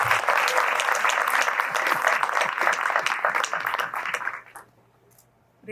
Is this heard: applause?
yes